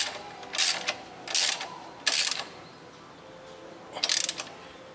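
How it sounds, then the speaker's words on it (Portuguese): Ratchet tightening a bolt on a Yamaha Tenere 250 center stand, four short bursts of rapid metallic clicking separated by brief pauses, close and clear. "Apertar ali embaixo, apertar o parafuso de cima."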